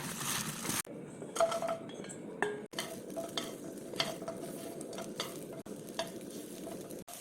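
Dried pollock strips, softened with oil, are stir-fried in a pan: a steady sizzle with scraping stirs and occasional utensil clinks against the pan, close up and with no talking.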